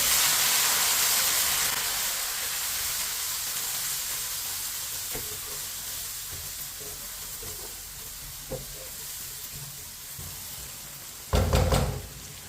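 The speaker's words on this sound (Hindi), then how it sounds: "मीडियम आंच पर टमाटर को 2-3 मिनट के लिए पका लेते हैं।" Finely chopped tomatoes and green chillies cook in a pan on medium heat for masoor dal, giving a steady soft sizzle and hiss with a few light taps and a brief louder clatter near the end.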